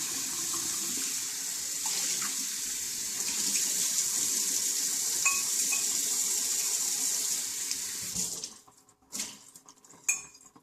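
Steady hiss of hot tap water running into a sink for about eight seconds, with faint clinks of dishes, then the flow stops and a few scrapes from a scraper follow.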